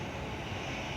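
A Virgin Airbus A320 on approach to runway 21 at Perth, heard as a brief, steady, broad engine roar with no other sounds.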